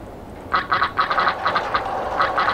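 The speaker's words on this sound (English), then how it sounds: "Is that a duck?" A duck quacks in the video game Roller Coaster Tycoon 2, a rapid run of loud, nasal quacks in short bursts over a low background hum, with no speech.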